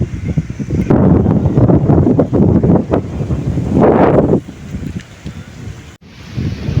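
Strong wind buffets the microphone in loud, continuous gusts, with a roaring surge near the middle and a brief dropout toward the end.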